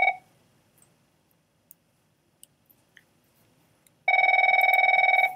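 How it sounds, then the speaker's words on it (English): A telephone rings during a classroom lesson: a short electronic ring burst at the start, a few faint clicks, then a loud sustained ringing tone near the end. "let me answer the phone real quick"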